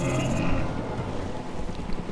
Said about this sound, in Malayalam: നല്ല മഴ അടിച്ചു വന്ന്